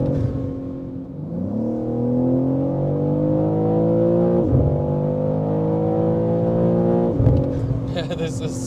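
A 650-horsepower Manhart MH3 650 tuned BMW M3 Touring at full throttle on the autobahn, its engine note climbing steadily through rapid upshifts, loud and close from inside the cabin.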